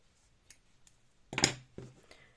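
Scissors snip the tail of acrylic crochet yarn on a small horse keychain, one short crisp cut with a faint click just after, close and alone in a quiet room.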